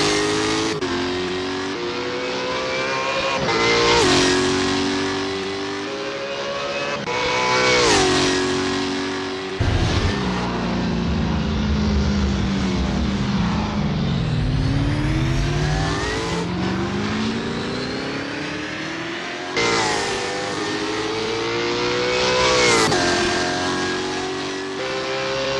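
V8 Supercar engines racing at Simmons Plains in Assetto Corsa, loud sustained engine roar with repeated rising revs and gear shifts, cars sweeping past in waves throughout.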